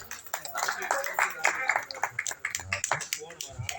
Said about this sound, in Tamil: அப்படியே கைதட்டுங்க கைதட்டுங்க வச்சா கைதட்டுங்க